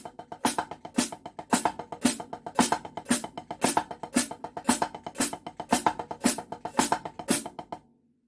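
A drum pattern is played close up and double-timed into sixteenth notes. Evenly spaced, sharp hits with accented strikes run in a brisk, continuous groove with no voices, then cut off abruptly.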